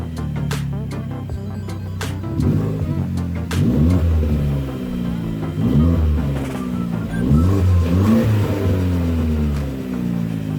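A car fitted with a custom exhaust, sitting on stands, revs hard in repeated bursts, the engine climbing and falling several times, loud and close, with a brief voice at the start.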